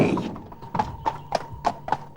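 Horse hooves clopping in a steady series of sharp, evenly spaced beats at moderate distance, with a faint whinny near the start.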